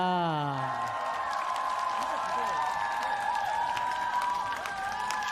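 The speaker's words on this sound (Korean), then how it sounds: "큰 박수 부탁드립니다." An audience in Ulsan applauds and cheers to welcome a singer at a recorded live show, a steady wash of clapping and crowd noise throughout, with sustained tones and a voice running over it.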